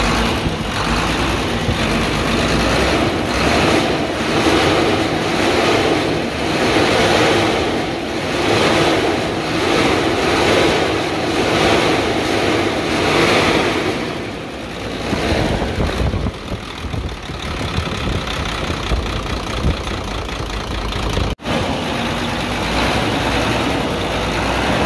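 An HO7D diesel engine with a broken piston liner runs steadily for the whole stretch, a loud close rumbling drone with a rhythmic knock throughout and a brief dip near the end, no voices.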